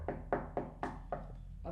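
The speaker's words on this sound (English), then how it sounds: "notice how the scene intensifies as the mom knocks on the door" Knocking on a door in a film scene, five firm, distinct knocks in an uneven rhythm, close and resonant, each with a short hollow decay over a faint low hum.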